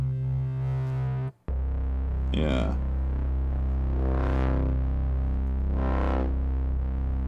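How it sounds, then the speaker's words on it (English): Sequential Pro 3 paraphonic synthesizer with a distortion effect on a sustained gritty, buzzing drone that briefly cuts out, then swells in rising and falling sweeps; one short spoken word. "Maybe what we should do is throw actual distortion on."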